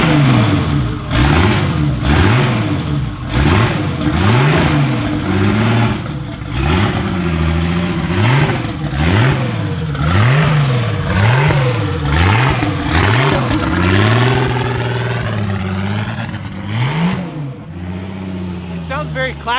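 A BMW M20 stroker engine fitted with a MaXpeedingRods turbo revs repeatedly in loud, rhythmic rises and falls, with a slightly clacky mechanical edge, and people talk over it.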